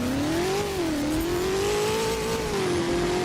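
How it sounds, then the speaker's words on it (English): In the Driving Empire video game, an SSC Toro Striker's engine drones loudly and steadily, its pitch rising and dipping slightly as the revs shift, with a continuous road roar underneath and no voices. "This is one of the best sounding cars in the game too, and it's so underrated. Like just listen to this."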